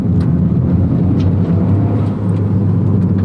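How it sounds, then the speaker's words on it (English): A 2023 Toyota Corolla Morizo Edition drones along at low speed with a deep, boomy, steady exhaust rumble, loud and continuous, heard from inside the car with no talking. "it has a really boomy exhaust that sounds like it's gonna drone"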